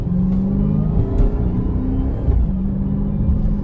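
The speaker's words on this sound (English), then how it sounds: "You can feel how it downshifts a little bit harder and upshifts harder." A Dodge SRT Hellcat Charger engine drones and rumbles steadily from inside the moving car, its pitch stepping between gears as it downshifts, loud and continuous with no voices.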